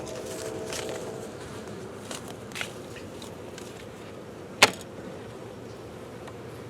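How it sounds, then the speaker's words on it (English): Honey bees buzz softly inside a hive being fed dry sugar in cold weather, a low steady hum close by. Scattered light knocks and one sharp click from handling the hive cut in, with no voices. "Yep, we got bees."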